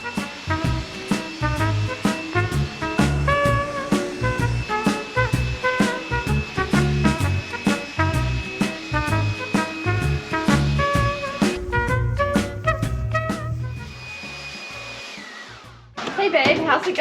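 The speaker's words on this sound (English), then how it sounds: "I like using a leaf blower." A leaf blower drying an Airstream trailer after washing, its loud steady high-pitched whine running continuously and close, dropping briefly near the end before resuming, with a faint clicking rhythm along with it.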